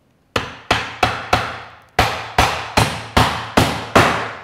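A Vaughan 20 oz steel Eagle claw hammer struck nine times in a steady rhythm, each blow a loud, sharp, close crack that rings out and decays quickly, with a short pause after the fourth hit.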